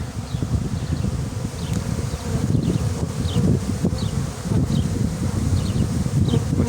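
Dense, steady buzzing of many honeybees close by at the hive, a low droning hum with occasional single bees zipping past.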